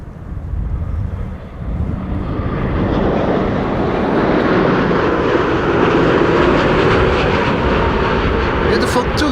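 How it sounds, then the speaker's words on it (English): A Turkish Airlines airliner arrives at Amsterdam Schiphol Airport, its jet roar swelling from a rumble into a loud, broad, close roar that holds steady to the end. "This is Turkish Airlines flight 1957, the penultimate airplane of today's show."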